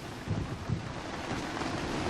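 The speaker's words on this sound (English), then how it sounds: "Finally, the storm arrived in force" Thunderstorm effect for a narrated story: a dense, steady roar of rain and wind with low rumbling swells early on, fairly loud and constant throughout with no voices.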